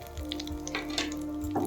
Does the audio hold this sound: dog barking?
no